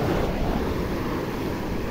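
Sea waves wash onto the beach at Puri in a steady, broad roar of surf with some wind noise, filling the whole short stretch.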